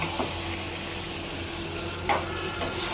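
Boiled vegetables, parboiled with turmeric and salt, frying in spices in a pan, giving a steady sizzle with a few soft stirring scrapes and no talk.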